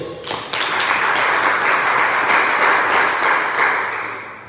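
A church congregation at a Sunday service breaks into applause. Dense clapping from many hands begins suddenly and holds steady and fairly close for about four seconds, then fades out.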